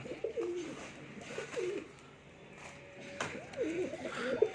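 Pigeons in a loft give several separate bursts of soft throaty cooing, heard up close against a quiet background.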